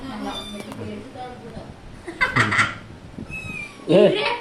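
A house cat gives two short meows, one in the middle and a louder one at the end, while people talk throughout.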